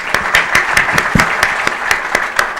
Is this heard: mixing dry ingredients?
no